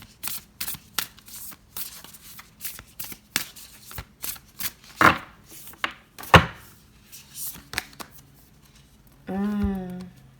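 Tarot and oracle cards shuffled by hand during a love reading: a long run of crisp riffling slaps and clicks at an uneven pace, then a short burst of voice near the end.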